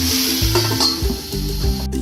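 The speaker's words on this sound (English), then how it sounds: "Give it a nice stir and then cover it with lid." Vegetables for burnt garlic mushroom fried rice sizzle and get stirred in a hot pan, with steady frying hiss and a few scraping stirs and light clinks, close and alone.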